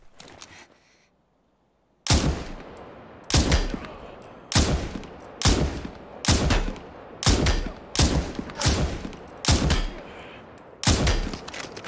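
Gunfire in the battle royale game Super People: after a brief quiet moment, about nine loud, sharp shots ring out at roughly even intervals of just over a second, each followed by a short decaying tail.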